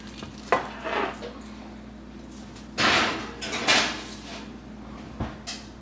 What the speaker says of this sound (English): Now we're just going to stick them back in the oven.